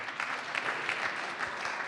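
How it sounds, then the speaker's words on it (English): An audience in a meeting room at a morning startup community event claps together, a brief, dense burst of applause close by. "Round of applause for everybody in the room."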